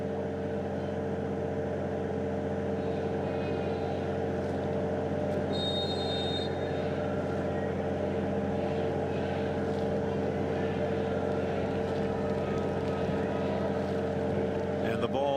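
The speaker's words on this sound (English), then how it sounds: "You can almost hear what sounds like the pumps that were being used to drain this field prior to get this game underway." Steady droning hum of water pumps draining a football field before a Trinidad and Tobago match, a constant low mechanical rumble underneath faint background noise.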